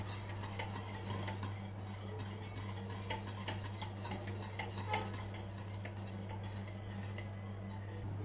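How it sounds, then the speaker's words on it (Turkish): A spoon stirs vanilla into a strawberry sauce in a pot, making light repeated clinks and taps against the metal over a steady low hum, close and quiet. "Bir paket vanilya ekledim arkadaşlar. Bir güzel karıştırıyorum."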